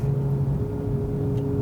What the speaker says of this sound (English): The Honda engines do not make that great of a noise.